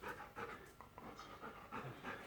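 Dog panting in a home, a quick rhythmic series of soft huffing breaths, close but quiet, continuing steadily throughout.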